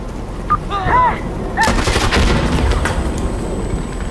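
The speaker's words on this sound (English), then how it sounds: "Alright, we have firing chemical mortars!" Chemical mortar fire in the video game Insurgency Sandstorm on a snow map, with loud booming shots and blasts rolling together over several seconds after brief radio-like chirps.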